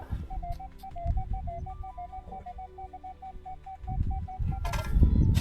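A Minelab Equinox 900 metal detector emits a rapid, steady series of short beeping tones while sweeping over ground, with rustling and digging noises rising toward the end.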